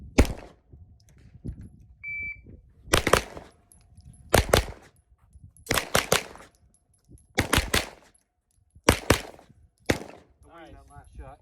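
Pistol-caliber carbine fire from a Springfield Armory Kuna and a Grand Power Stribog SP9 A3 at a shooting range, six or seven loud, sharp volleys of rapid shots in quick pairs and strings, separated by short pauses.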